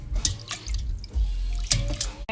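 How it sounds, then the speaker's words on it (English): Strained ramen noodles rinsed under cold running water from a tap, a steady close stream with splashing and dripping bursts as the noodles are stirred. "I'm going to wash it in cold water"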